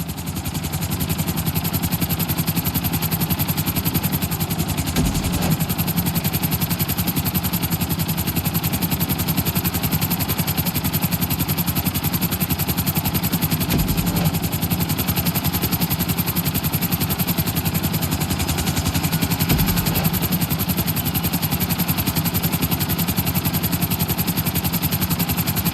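Helicopter in the video game GTA San Andreas during a pilot license test, easing down toward a helipad; a constant loud rotor and engine drone runs unbroken for nearly half a minute, with no talking.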